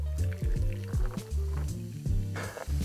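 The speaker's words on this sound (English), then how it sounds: "what we need to do is add a little bit of lemon lime soda. So I'm using Sprite" Lemon lime soda (Sprite) splashed into a layered cocktail, wet glugging pours and fizzy liquid sounds in short bursts, close up.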